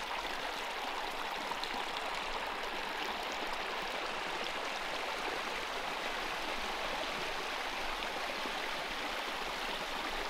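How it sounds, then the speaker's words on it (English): Gordale Brook in the Yorkshire Dales near Malham runs with little trickling waterfalls, giving a steady, dense rush and gurgle of flowing water that stays even and constant throughout. "it goes next to Gordale Brook, which is here. There's all little trickling waterfalls"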